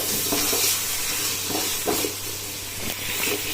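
Green chillies and onions sautéing in a pan for mutton biryani give a steady close sizzle, with a few louder stirring scrapes breaking through the hiss.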